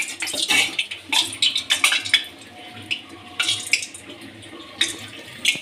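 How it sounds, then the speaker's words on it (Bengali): Clanking and scraping of oil being swirled around a hot iron kadai while making Bengali malpua, with repeated metallic knocks and a soft sizzle heard up close, no talking. "কড়াইয়ের চারদিকে তেলটা ছড়িয়ে দিলাম"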